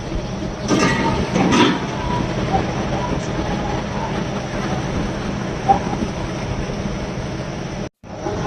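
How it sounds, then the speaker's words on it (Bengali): A train at the Benapole rail crossing pulls away, its steady rumble and wheel clatter rolling on continuously and fairly close, with a few brief voices in the background. "অনেকক্ষণ অপেক্ষার পরে এইবার ট্রেনটি ছাড়লো"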